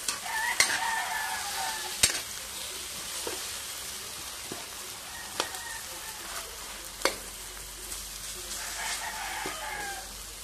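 Tomatoes and other breakfast food sizzle softly in a pan while being stirred, with intermittent scraping clicks of the utensil over a steady frying hiss; a rooster crows faintly in the background.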